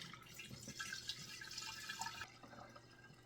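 Raw milk pours and trickles through a filter into a pail, a soft continuous splashing and dripping heard close up and alone, tapering off near the end.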